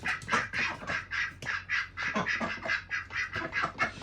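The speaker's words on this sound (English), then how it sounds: "5 ducks, 4 Ancoas, and 1 mixed breed Muscovy" Several Muscovy and Ancona ducks quack in a rapid, overlapping stream of rough calls, close by and continuous, with no talking.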